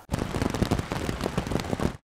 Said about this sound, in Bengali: গতকাল বিকেলে বৃষ্টি শুরু হলেও এখনো ঝরছে